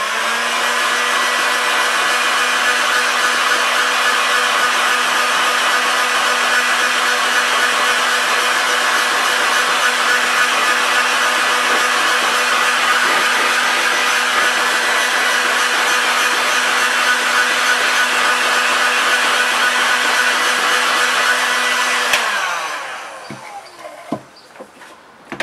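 A hair dryer blasts to dry paint on a craft piece, a loud, steady high-pitched whine with an even airy roar that runs unbroken for over twenty seconds, then switches off, leaving faint handling sounds.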